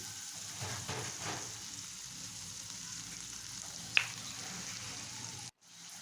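Onions fry in hot oil with a steady, close, hissing sizzle and a single sharp clink partway through, then the sound cuts off abruptly near the end.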